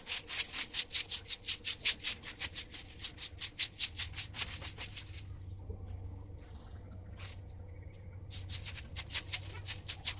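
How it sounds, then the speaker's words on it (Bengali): A broom sweeps a rural courtyard in quick rhythmic strokes, close and scratchy, pausing midway before the brisk sweeping resumes, with faint birds in the background. "উঠান সব কিছু ঝাড় দিয়ে নেবো।"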